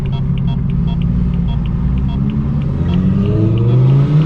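A straight-piped BMW M4 F82 exhaust heard from inside the car, a loud, deep rumbling drone that swells as the engine revs up near the end.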